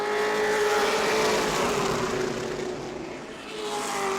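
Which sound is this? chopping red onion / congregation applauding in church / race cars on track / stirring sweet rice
race cars on track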